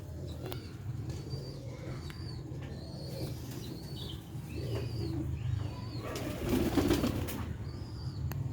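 Pigeons coo repeatedly in soft, rounded calls, close by and loud, with an occasional flutter of wings among them and a steady low hum underneath.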